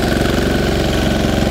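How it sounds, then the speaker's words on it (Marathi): Small Apollo tractor engine running close by with a steady, loud throbbing idle and fast regular pulsing, no voices. "आता हा अपोलो कंपनीचा ट्रॅक्टर आहे."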